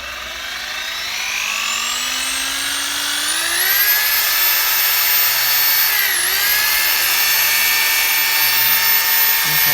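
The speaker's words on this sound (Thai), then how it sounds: "อ่า เดี๋ยวเรามากดฟังเสียงของเครื่องดูนะครับ" Dewalt D25122K 800 W rotary hammer drill running steadily and loudly on its own, its motor whine climbing in pitch over the first few seconds and then holding a high, constant tone with a brief dip.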